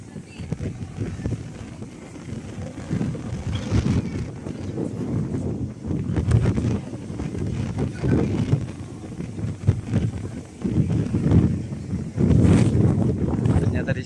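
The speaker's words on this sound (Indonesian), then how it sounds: "Kencang angin." Strong wind buffets the open deck of the KM Swarna Bahtera ferry crossing the Makassar Strait, a steady loud rushing roar with gusts swelling toward the end, under occasional voices.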